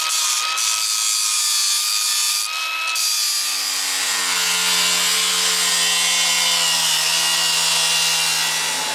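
A power tool cuts through welded metal brackets on a twin-turbo V8 FRS engine swap, giving a sustained, loud, high-pitched whine with a steady grinding drone that deepens partway through.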